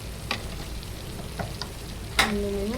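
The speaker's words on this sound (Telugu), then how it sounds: "ఇందులో కారం వేసి కొంచెం ఇది పచ్చివాసన పోయేదాకా కారంని నేను ఉడకబెడుతున్నా" Chili powder sizzles in hot oil with chicken in a pan, with a steady close fry broken by a few scraping stirs.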